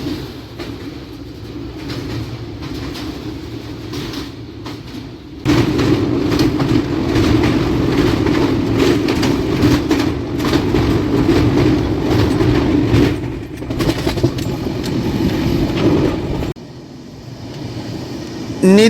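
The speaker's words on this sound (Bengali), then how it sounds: "নির্দিষ্ট সময় থেকে প্রায় 1 ঘন্টা দেরিতে আমাদের ট্রেন এসে পৌঁছালো উড়িষ্যার কটকে।" Howrah–Tirupati Humsafar Express rumbling along the rails, a steady low roar with rhythmic wheel clatter that swells louder midway, then drops off near the end as the train slows, with no voices present.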